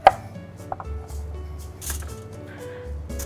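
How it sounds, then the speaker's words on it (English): Knife chopping carrots on a bias into rough thirds on a cutting board for smoked barbecue carrots; a sharp close thunk opens, followed by a few soft cuts and board knocks. "Now we're gonna trim these into more manageable pieces. I like to cut on a bias and cut them into rough thirds."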